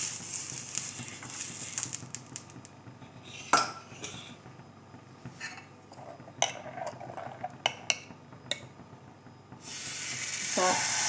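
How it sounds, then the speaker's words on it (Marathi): A home dosa tawa being greased with oil before the next dosa, heard as scattered metallic scrapes and clinks of a utensil on the griddle against a low kitchen background, with a louder burst near the end. "तवाला तेल लावून घेऊया परत आपण."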